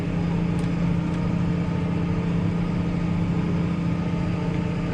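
Case Puma 145 tractor engine held at 1700 rpm while hauling manure at about 6 km/h with the PTO on 540 Eco, a steady, loud, close diesel drone with no talk.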